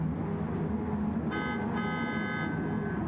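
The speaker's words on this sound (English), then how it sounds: "Lined up, horns are honking." Car horns blare in a sustained, overlapping honk for about a second at the start of a racing video game, layered over a steady loud engine drone.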